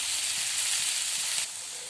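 Finely chopped tomatoes hiss and sizzle in hot oil in a frying pan, a loud, steady close-up fizz that eases slightly near the end.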